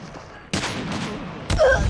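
Sniper rifle fire in a video game, a sharp loud shot bursting in at about half a second and another heavier blast near the end, over steady game ambience.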